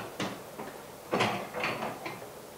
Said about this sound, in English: put it together with the base mold, like this, and then close the door